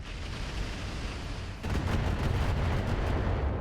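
Mech missile and weapon fire in the RogueTech battle game, a dense rumbling barrage of rapid shots that swells louder partway through and continues steadily to the end.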